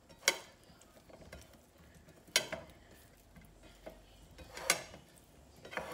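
Spices of red chilli, coriander powder and salt are gently mixed in a pan for mattar paneer, soft faint scraping punctuated by a few sharp spoon taps against the pan.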